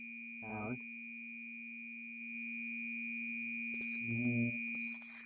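A synthesized vowel "E" built from two bandpass filters sounds as a steady, buzzy electronic tone that holds throughout, with brief voiced bursts near the start and end over the sustained synthetic vowel.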